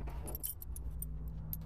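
Metal keys jingle and clink in several short bursts over a steady low engine hum, fairly close and light.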